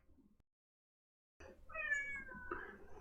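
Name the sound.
cat meowing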